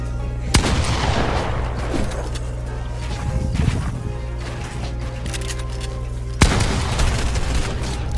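Assault rifle and SMG gunfire in a console shooter's 1v1 match: dense, loud, continuous rapid-fire bursts with sharp booming onsets near the start and again after a pause, no voices over it.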